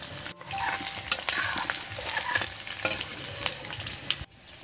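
Potatoes frying in oil for aloo dum, a close, busy sizzle with frequent stirring and spatula scrapes against the pan, no speech.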